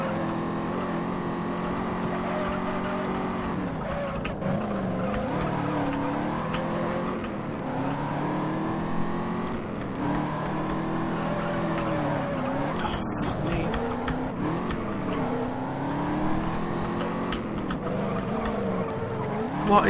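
Race car engine from the Juiced racing video game, a steady loud droning whine with shifting revs throughout as the car is thrown into corners, with possible tire squeal mixed in.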